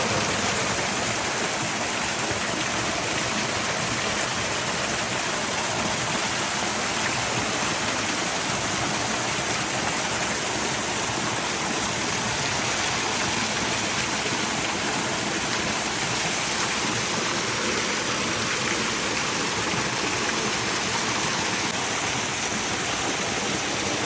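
Warm spring water at Sitavani Temple flows and splashes in a steady, close, broadband rush that holds evenly from start to finish.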